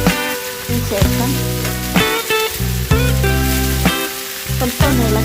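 Chopped ivy gourd hits hot oil in a frying pan with onions, setting off a loud, steady sizzle with a few louder bursts as the pieces go in, over a continuous background tone.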